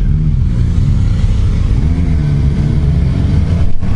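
A 2015 Suzuki GSX-R750 inline-four sport bike engine revs up and down while riding, loud and close, with rising and falling tones under steady wind noise.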